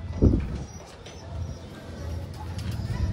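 Racing pigeons coo softly nearby in low, rolling murmurs, with some faint background noise and brief chirps.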